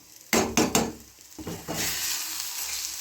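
Green peas fry in a pan with a few sharp stirring clatters, then settle into a continuous, close sizzle.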